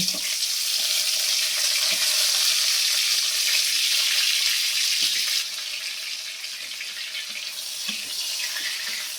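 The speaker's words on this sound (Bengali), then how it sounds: "এবার আমি রানিকে হালকা করে একদম একটু হালকা লাল লাল করে ভেজে নেব" Eggplant slices for begun rani shallow-frying in a pan, a strong, continuous close sizzle and hiss that eases slightly after a few seconds, with no one speaking.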